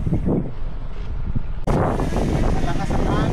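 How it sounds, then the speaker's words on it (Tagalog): Gusty wind buffets the microphone on a farm, quieter at first, then a sudden loud roaring burst that keeps blowing hard. "Malakas ang hangin."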